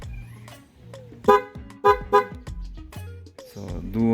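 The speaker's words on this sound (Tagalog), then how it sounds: "Ito yung busina niya na kinabit namin." A PIAA horn fitted to a Yamaha Nmax scooter honks in several short, loud toots of uneven spacing, with a voice talking quietly around them.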